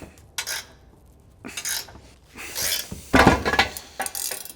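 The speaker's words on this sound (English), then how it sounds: "In the meantime, we can remove the diff bushing here" Metal tools scrape and clink against a BMW E46 330i subframe while the differential bushing is worked out, in irregular bursts of rasping and knocking separated by short pauses.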